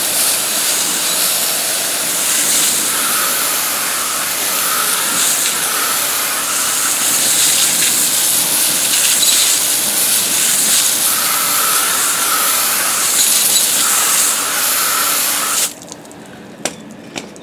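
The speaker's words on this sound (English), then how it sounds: "And I'll rinse off the tire." A loud steady hiss of pressurized water spray rinses foaming cleaner off a car tire, running continuously for about fifteen seconds before cutting off abruptly, followed by a few faint drips and knocks.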